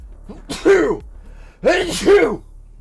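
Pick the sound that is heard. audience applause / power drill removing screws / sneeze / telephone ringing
sneeze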